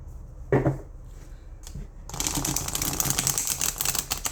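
A single soft tap, then a sustained close-up riffle of tarot cards shuffling, a rapid papery flutter that runs on steadily to the end.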